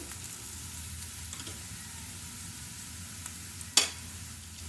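Ridge gourd with turmeric frying in oil, giving a faint steady sizzle with a single sharp clink near the end and no talking.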